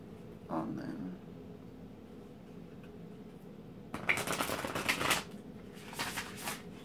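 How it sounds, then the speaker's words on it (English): Quiet, close rustling and flicking of large, stiff oracle cards being shuffled in a few short bursts, with pauses between. "They're kind of like really big and bulky, so they're hard to shuffle"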